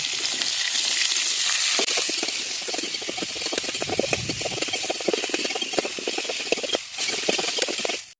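Drumsticks sautéing in hot coconut oil for a curry, a loud continuous frying hiss up close with spatters and crackles running throughout and no voices.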